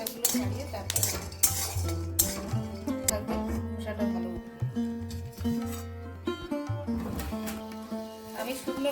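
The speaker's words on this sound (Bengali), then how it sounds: "বাদামগুলো তেল ছাড়া হবে নাহলে খোসা মানে এইগুলো এই শুকনো খোলায় ভেজে তারপরে খোসাগুলো তুলে দিতে হবে" Peanuts dry-roasted without oil in a pan, stirred with a metal utensil, giving repeated close clinks and scraping rattles in an irregular rhythm, with some speech in the background.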